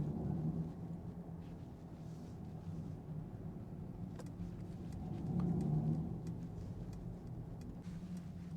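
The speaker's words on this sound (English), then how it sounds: "Sounding like a proper AMG" Mercedes-AMG EQE43 electric car, 2023, driving with a synthetic engine-like hum that swells in a low, steady drone, briefly surging louder midway, heard from inside the cabin without talking.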